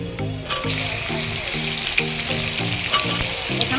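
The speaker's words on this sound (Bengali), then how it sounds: "এবার আমি পেঁয়াজ কুচিটা দিয়ে দেবো।" Chopped onion hits hot oil with spices while a chicken curry is cooked, giving a loud, steady sizzle with a rhythmic stirring scrape repeating about twice a second throughout, no voices.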